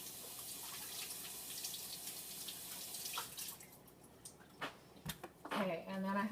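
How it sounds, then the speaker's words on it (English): Water runs from a tap over crimini mushrooms being rinsed, a soft steady rush that breaks into splashes and clatter toward the end. "I am going to wash these real quick, just because they look like they could use a little rinse"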